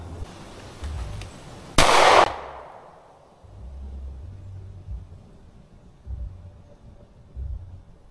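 A single sharp gunshot from a Taurus G2C pistol cracks loudly at an outdoor range and trails off into a fading echo, with faint low rumbles of wind or handling around it.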